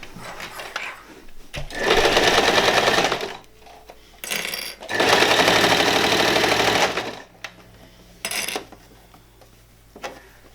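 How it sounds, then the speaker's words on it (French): A serger (overlock machine) stitches fabric for a spring dress in two loud bursts of a few seconds each, with brief shorter runs, clicks and handling sounds in between. "Vous avez la surjeteuse."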